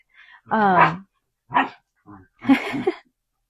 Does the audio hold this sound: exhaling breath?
no